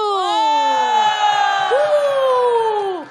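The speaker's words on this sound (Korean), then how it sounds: "자, 칭찬해. 박수!" An audience breaks into loud, sustained cheering with rising and falling whoops and shouts from many voices, lasting about three seconds before fading out; distinct clapping is hard to pick out.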